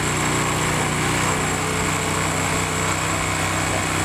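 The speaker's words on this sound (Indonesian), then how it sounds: "Suara putaran mesin paling tinggi" A Honda Karisma motorcycle engine holds at high revs with a constant, loud buzzing whine and no letup or change in pitch.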